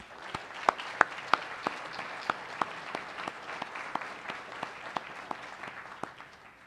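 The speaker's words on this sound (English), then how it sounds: "So again, give them a round of applause." Scattered hand claps from a small audience greeting two newly hired basketball coaches at a university press event, sparse and steady, each clap distinct and moderately near.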